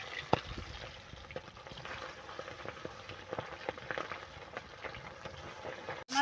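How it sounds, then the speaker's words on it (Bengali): Katla fish head frying in hot oil in a pan, a faint, steady crackling sizzle with scattered pops, close but quiet, without talk. "এখন দিয়ে দেব মাছের মাথা।"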